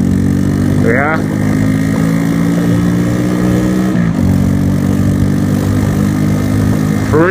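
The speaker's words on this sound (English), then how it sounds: "Waking up all the peeps, I'm guessing, from how loud this engine is." Loud motorcycle engine idling steadily close by on a dark, wet morning, a deep continuous rumble with a couple of brief revs or whines.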